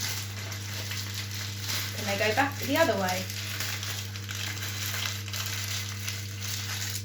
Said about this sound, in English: You're going to scrunch the paper